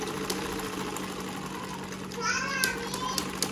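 A sewing machine winds its bobbin with a steady whirring drone and a low hum, joined by brief higher tonal chirps near the end, with faint background voices.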